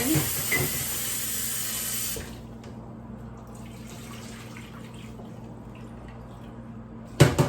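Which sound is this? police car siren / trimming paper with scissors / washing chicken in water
washing chicken in water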